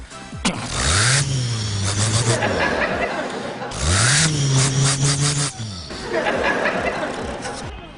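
A man vocally imitates a Ford Transit van engine in three long revving bursts, each with a rising then steady pitch, separated by brief pauses and close to the listener.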